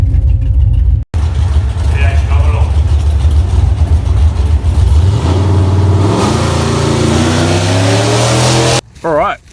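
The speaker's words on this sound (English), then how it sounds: "next up we're racing this F6 Typhoon here." A Ford Falcon F6 Typhoon race car engine revs and accelerates loudly at a drag strip event, its pitch climbing steadily through the run before cutting off abruptly, with voices audible alongside.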